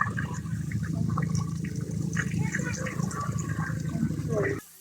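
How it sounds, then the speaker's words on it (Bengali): Water pumped up by motor from a stream below gushes steadily from a pipe at a hilltop home in Bandarban, Bangladesh, a rushing flow heard throughout while people talk nearby over it. "নিচের জিরিখাত থেকে ওনারা মোটরের সাহায্যে এভাবে পানি তুলে"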